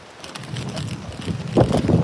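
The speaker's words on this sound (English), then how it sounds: "Oh, it's so windy." Gusty wind buffets a microphone outdoors at a street gathering in San Francisco, a steady low rumble that swells into louder bursts near the end; no clear speech stands out.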